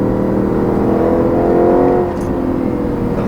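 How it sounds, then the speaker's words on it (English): A 2013 Audi RS5 engine revving hard toward 5,500 RPM, a loud, smooth, rising howl held close up, then briefly dropping off before settling, with no voices. "It's just a pleasure to rev it out."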